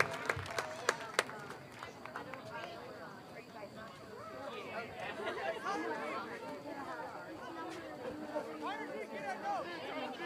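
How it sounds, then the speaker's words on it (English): Crowd at a high school varsity football game cheering and clapping for players back on their feet, a few sharp claps early then a steady wash of chatter and applause, with voices mixed in. "Nice round of applause for our Spartans back on their feet."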